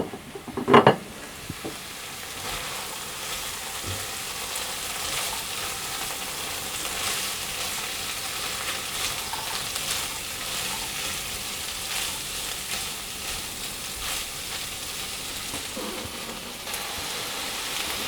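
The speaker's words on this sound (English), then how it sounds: "The onions have cooked for 5 minutes and they've sweated down a little bit, so I'm going to add in the carrots and the celery" Onions, carrots and celery sizzle steadily in a pan, a continuous soft frying crackle with a brief clatter of stirring near the start and occasional utensil scrapes.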